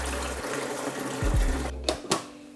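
A Gaggia Classic Pro espresso machine pumps water through its group head during descaling, giving a steady buzzing hum with running water. A few low clunks and sharp clicks follow near the end.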